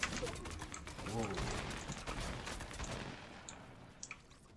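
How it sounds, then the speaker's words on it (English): Fortnite Battle Royale gunfire crackles in quick bursts and scattered shots from a distance, mixed with game ambience and a voice talking over it. "You can already hear people starting to shoot."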